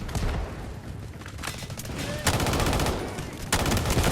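Bursts of gunfire from the Luna weapon in the mobile shooter Delta Force Mobile, loud rapid shots in repeated volleys over a steady game background.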